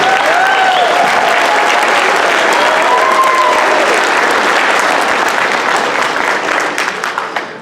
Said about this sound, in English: How about one more round of applause for these composers?